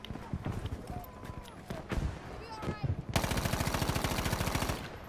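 A heavy ball turret machine gun on a bomber in Battlefield V rattles off a fast, continuous burst of loud rapid shots, preceded by scattered game noises and voices talking.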